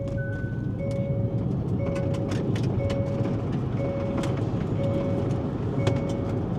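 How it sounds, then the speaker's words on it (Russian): Hyundai Ioniq 6 electric car accelerating hard in sport mode, heard from inside the cabin as a steady, loud rush of road and motor noise with a short electronic beep repeating about once a second throughout. "давайте замерим разгон скорости на Hyundai Ioniq 6. Спорт-режим. Поехали."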